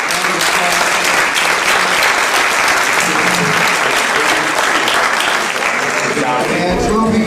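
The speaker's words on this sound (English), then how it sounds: "Please give our panelists a round of applause." Audience at an education forum panel clapping for the panelists, a dense, loud, sustained round of applause from a crowd indoors, steady throughout.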